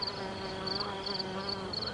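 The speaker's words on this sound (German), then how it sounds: "Die Biene ist jetzt natürlich am fleißigsten. Und alles summt und brummt." Bees and other insects buzz continuously on a hot summer day, a close, steady drone with pulsing higher whines rising and falling.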